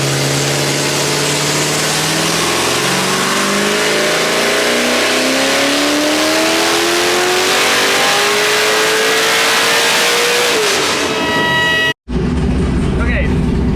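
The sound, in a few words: nitrous car engine revving on chassis dyno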